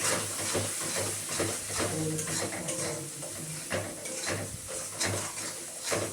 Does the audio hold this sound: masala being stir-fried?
yes